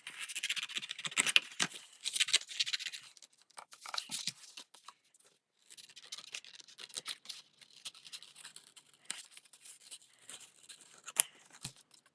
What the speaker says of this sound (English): we're going to cut out the flowers using scissors